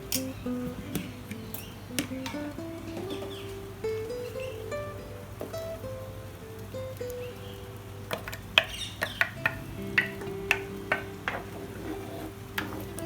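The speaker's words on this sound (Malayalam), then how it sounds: "നല്ലതായിട്ട് ഇളക്കി കൊടുക്കാം. ഒന്ന് കുറുകി വരട്ടെ." A spoon stirs thick kurukku kaalan curry with ground coconut paste in a pot, giving scattered scrapes and soft clinks, a few sharper taps later, over a low steady background hum.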